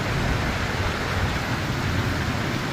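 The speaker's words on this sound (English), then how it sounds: "but it's a downpour, thundering and everything." Heavy downpour outside a damaged house, a constant broad roar of rain with a low rumbling undertone, steady and close, with no voices.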